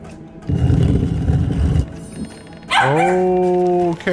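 A dog barks loudly and close by, first a burst of muffled low barks and then a sustained, drawn-out whining howl, with gameplay sound faint underneath.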